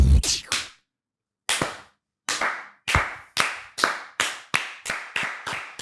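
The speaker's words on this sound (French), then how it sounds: "Faut applaudir le début des épisodes." Loud, sharp hand claps marking the start of an episode of a French show: a quick cluster at first, a pause, then a steady run of single claps close to the microphone, with no talk over them.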